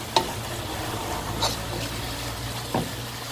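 Meat and vegetable stuffing for minced-meat rolls frying in a pan, a soft steady sizzle with three brief scraping stirs spaced a second or so apart.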